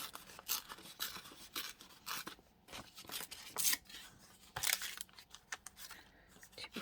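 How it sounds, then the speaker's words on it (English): Scissors trimming paper for an altered book page, a run of short crisp snips and rustles at close range, fairly quiet, with brief pauses between cuts. "so let's cut it down a bit"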